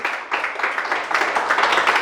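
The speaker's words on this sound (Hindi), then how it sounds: "बरबोली अच्छे से ताली बजा दीजिए।" Congregation in a church service clapping hands together in a dense, continuous burst of many overlapping claps, loud and sustained throughout with no talk.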